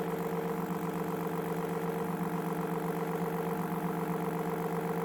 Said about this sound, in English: you can hear the RPMs go up because we're increasing the pulse with modulation